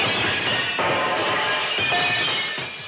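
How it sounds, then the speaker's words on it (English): A donkey crashing through a plate glass window, heard as a loud, sustained smash of breaking glass with bright shattering debris that trails off near the end. "Straight through the plate glass window."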